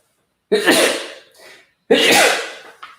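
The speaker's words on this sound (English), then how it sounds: "Pardon me, I might need to sneeze." Two loud sneezes a little over a second apart, each sharp burst trailing off into a breathy exhale, with nothing else around them.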